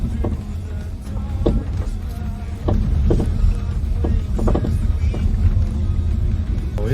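Knocks and clunks from a BMW X6 suspension with a worn straight control arm while driving, repeated irregular thumps over a low rumbling road and cabin noise.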